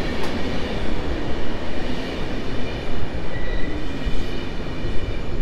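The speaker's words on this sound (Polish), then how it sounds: "Opóźniony około 14 minut wjeżdża ekspres Intercity Tatry" An Intercity Tatry express hauled by an EU200 locomotive rolls into Kraków Główny station, a loud continuous rumble of wheels and rail noise with faint squeal tones, no voices.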